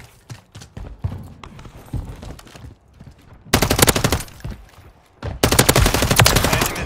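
Rapid automatic gunfire in Call of Duty: Modern Warfare III Ground War, two loud sustained bursts of fast shots close by, after scattered quieter shots and footsteps in the distance.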